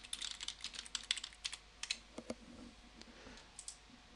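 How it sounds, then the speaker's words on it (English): Rapid keystrokes on a computer keyboard come in quick irregular bursts of light clicks with short pauses, faint and close, with no voices. "type the answer in sentence format"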